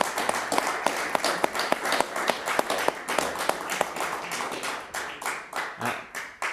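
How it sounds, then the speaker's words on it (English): A symposium audience at a music town event gives a round of applause, with crisp individual handclaps standing out close by over a denser clapping wash that swells, then tapers off near the end. "You must give a big warm applause to these guys"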